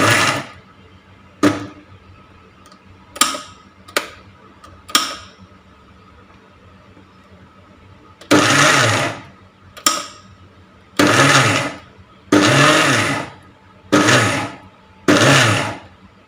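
A kitchen mixer grinder blending roasted peanuts with sugar for peanut chutney powder, heard as several loud whirring bursts of a few seconds each, separated by short pauses, with clicks and taps between them.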